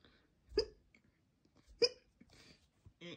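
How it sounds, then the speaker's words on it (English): Two sharp, close hiccups about a second apart, each a sudden gulping catch, followed by soft breathing and a brief voiced sound. "hiccups."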